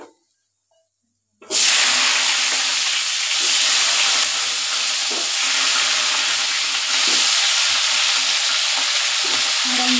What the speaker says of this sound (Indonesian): lanjut kita goreng jengkol ya